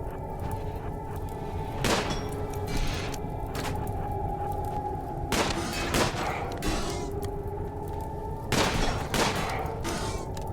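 Gunfire in the video game RimWorld breaks out in three short clusters of sharp shots, spaced a few seconds apart, over a steady tonal game soundtrack.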